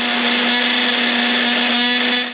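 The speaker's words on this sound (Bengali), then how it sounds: "এবারে ব্লেন্ড করে নেব।" A mixer grinder whirs at high speed, blending fried spices in its jar with a loud, steady motor drone and a strong hum, then cuts off abruptly after about two seconds.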